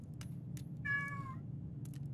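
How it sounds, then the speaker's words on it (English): A cat meows once, a short clear harmonic cry, mid-distance over a steady low background hum with a few faint clicks around it. "Oh, the cat wants to get out of here."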